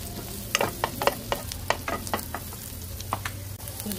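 Garlic frying until brownish in a pan for a creamy bacon and mushroom carbonara, with a steady sizzle under a series of sharp stirring scrapes and clinks spaced through the middle.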